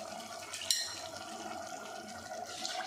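Running water pours steadily into a pressure cooker, a continuous splashing fill with a brief clink near the start.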